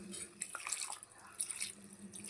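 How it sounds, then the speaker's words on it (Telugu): Water being added to an aloo masala curry in the pan makes soft pouring and splashing sounds with light bubbling, close and fairly quiet. "కాబట్టి కొంచెం వాటర్ వేసుకోవాలి."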